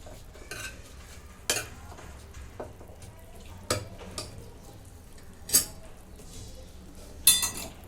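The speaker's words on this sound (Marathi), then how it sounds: "जे म्हणजे थोडेसे चणे मी घेत ठेवलेले आहेत ते आता मी मॅश करून घेणार आहे" Soaked chickpeas mashed in a metal pot for a thin dill leaf curry, heard as soft scraping with sharp utensil clinks and taps that come in sporadic bursts.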